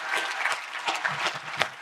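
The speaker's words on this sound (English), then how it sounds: "A big round of applause for those guys" An audience at a world-class real estate conference event breaks into brief applause, with steady, dense clapping and a few crowd murmurs heard close and moderately loud.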